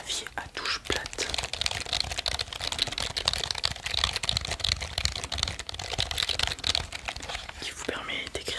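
Rapid, continuous tapping on a flat-key computer keyboard, close and crisp, with soft French speech murmuring underneath.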